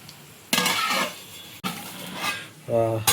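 Beaten egg hitting a hot pan for egg bhurji, a sudden sizzle followed by a second burst of frying and clatter, with a brief voice near the end.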